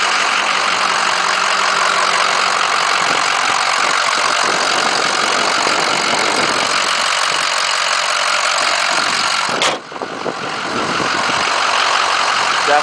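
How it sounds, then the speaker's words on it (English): A 2005 Ford F250 Harley Davidson edition with the Power Stroke turbo diesel idles steadily up close, a loud, even clatter with a brief dip near the end. "It's got the Power Stroke diesel in it."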